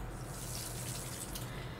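Water pours steadily from a large watering can onto crops in the farming game Pumpkin Days, a continuous close splashing stream with no voices over it.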